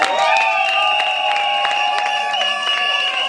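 Guests at a civil wedding ceremony applaud and cheer loudly for an officer: a dense, continuous crowd roar with high-pitched shouts and whoops over steady clapping, close and sustained throughout.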